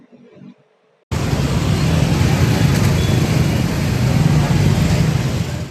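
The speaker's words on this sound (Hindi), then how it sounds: "ये नजारा है बड़ी खेरमाई मंदिर के पास का, जहां पर ट्रैफिक जाम के हालात निर्मित हो रहे हैं।" Dense road traffic jammed near Badi Khermai temple during Navratri: a loud, continuous wash of car and bus engines and roadway noise that starts abruptly after a brief quiet moment, with no speech.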